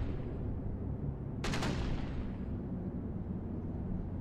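Machine gun fire in the WWII shooter Brothers in Arms: Hell's Highway: a single quick rattling burst of several rounds cuts through a dense, rumbling battlefield bed, mid-distance and brief.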